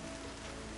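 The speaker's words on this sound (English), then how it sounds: "Rain's not so bad." Steady rain falls in the open-world game Horizon Zero Dawn, a dense, even hiss of drops with no other sounds, heard only briefly.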